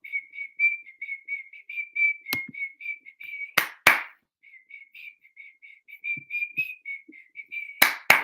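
A steady warbling whistle repeats in short pulses throughout, broken by a few sharp clicks and bumps nearby, with no speech over it.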